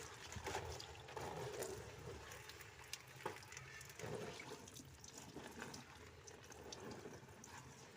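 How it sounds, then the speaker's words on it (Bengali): Taro leaves and shrimp are washed under running water in a steady, faint, continuous splash and trickle with occasional small knocks, and no voices. "চিংড়ি মাছ দিয়ে ভালো করে ধুয়ে নিই চলো"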